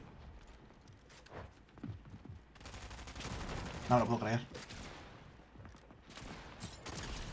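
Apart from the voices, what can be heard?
gunfire in the video game Fortnite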